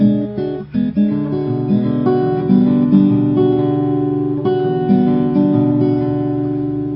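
An electric or acoustic guitar plays the country picking chorus of a song alone, with a bass note and plucked chord stabs moving in a steady, bouncy rhythm, close and clear.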